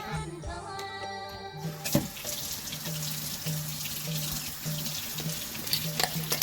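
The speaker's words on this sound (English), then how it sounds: "Wash, rinse, and then soak." A kitchen tap runs into a sink while wood ear mushrooms are washed and rinsed, a steady splashing stream with occasional clatters and knocks, close by, with no speech over it.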